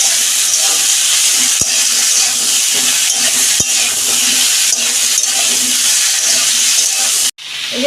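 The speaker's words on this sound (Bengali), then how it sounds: "সবজিগুলো একটু নাড়াচাড়া করে আমি ভেজে নেব।" Mixed vegetables with a little salt fry in a pan for a home-style fish curry, making a loud, steady sizzle and hiss with a few sharp clicks from stirring.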